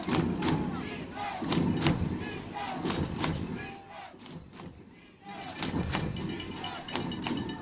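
A crowd cheers and shouts throughout at a 2A state championship high school football game, with rhythmic claps and thumps from the stands, dipping briefly before swelling again.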